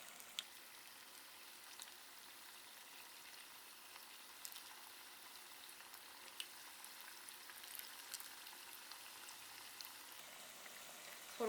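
Chicken pieces for kkanpunggi deep-frying in hot oil, a steady, even crackling sizzle with scattered pops that runs throughout at moderate-to-low level, with no voices.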